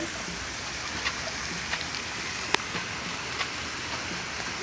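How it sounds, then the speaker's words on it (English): Heavy rain pours down steadily, with water gushing off surfaces like a small waterfall; a constant broadband hiss is broken by a few sharp drips and splashes, and no one speaks. "It has only been raining for like a few hours and this happens."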